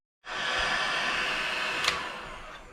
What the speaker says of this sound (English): So I'll just let it sit with the heat gun on it for, I don't know, 30 minutes or so